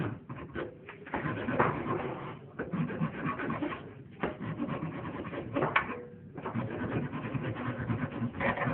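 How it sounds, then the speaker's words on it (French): A hand file works a cylindrical metal part to fit a nut, sounding as repeated rasping strokes in rhythmic bursts with short pauses between them, close and moderately loud. "On prend la lime et on travaille."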